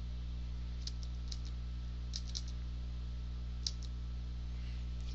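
A computer mouse clicks several times, faint sharp taps in small scattered clusters over a steady low electrical hum.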